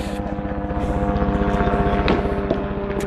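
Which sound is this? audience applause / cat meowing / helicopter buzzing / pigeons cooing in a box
helicopter buzzing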